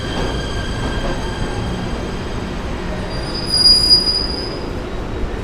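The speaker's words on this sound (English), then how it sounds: "that's the path train that goes to New Jersey." A PATH train bound for New Jersey squeals on its rails, a thin high-pitched screech riding over steady rumbling wheel noise that swells briefly near the end.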